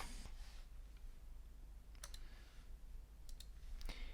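A few sharp mouse clicks in dashboard software, scattered and isolated, close to the microphone and fairly faint over a quiet hum, with no talking.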